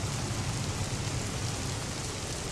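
Loud steady rainfall on an island in a video game, a dense continuous hiss with a low rumbling body and no other sounds over it.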